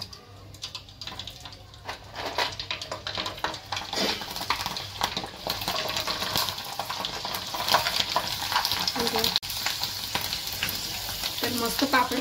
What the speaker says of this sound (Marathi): तर आता ना मी वापस तेलात ना पापड सोडून घेते